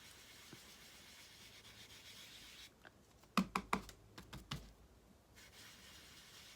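A sponge dabs ink onto card around a mask, giving a quick run of soft, close tapping pats in one burst after a stretch of faint room hiss.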